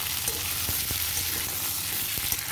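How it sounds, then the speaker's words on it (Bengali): Fried potatoes and pointed gourd stirred in a hot pan with a steady oily sizzle and occasional spoon scrapes and knocks, close and continuous. "এরপর ভালো মতো নেড়ে নেব, দেখুন আমি নেড়ে নিচ্ছি সুন্দরভাবে"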